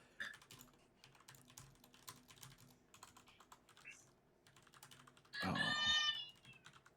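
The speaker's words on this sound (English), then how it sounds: "I hear kitties." Keyboard typing clicks away close by, then a cat meows loudly near the end, a short bright cry standing out over the tapping.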